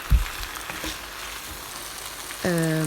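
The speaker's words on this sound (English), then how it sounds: "Give it a nice stir so all the gravy juice goes into the potatoes." Potatoes frying in gravy for Nepali-style aloo dum, a soft steady sizzle with a brief stirring scrape at the start, close and quiet.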